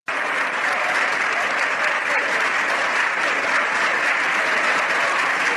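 Party members in parliament give a minister a sustained round of applause, a loud, even wash of many hands clapping without a break from start to finish.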